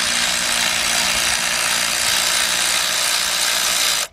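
Harbor Freight power ratchet loosening bolts on a 2012 Ford F-150 3.5 during a valve cover gasket job, a loud continuous buzzing whir at close range that cuts off abruptly at the end.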